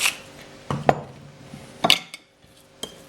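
A spoon clinks and scrapes against a bowl while mashed potato is stirred with parmesan and salt, a few sharp knocks spaced out over quiet mixing.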